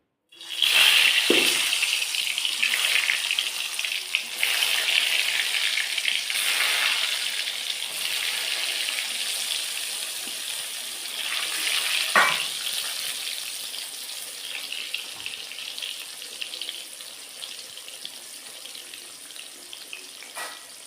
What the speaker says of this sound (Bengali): এবার আমি পটলগুলো ভেজে নেব